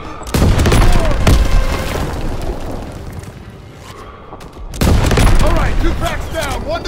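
Grenade blast and bursts of gunfire in a Call of Duty WWII battle, loud and close, with a second heavy burst of shooting after a brief lull, voices shouting over the chaos.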